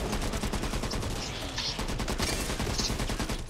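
Dense, continuous rapid gunfire in the video game Back 4 Blood, loud and sustained like automatic weapons, with no speech over it.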